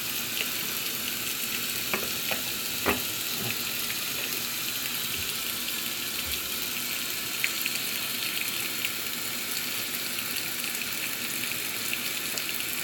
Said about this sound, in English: This is actually straight hot water, coming from the container, or not the container, but the water heater